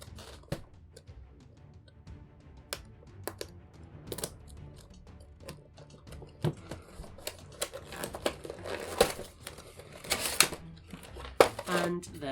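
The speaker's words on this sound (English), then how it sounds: "Getting the figure out of the packaging here." Halo Elite Mercenary action figure being pulled from its packaging: close crinkling plastic, scattered clicks and rustles that grow busier toward the end, with a voice talking now and then.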